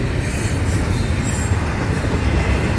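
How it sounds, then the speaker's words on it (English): A train passing on the FEC Railway in Florida, loud and close: a continuous heavy rumble of wheels on rail with a faint high squeal above it, steady across the whole stretch. "listen to the train"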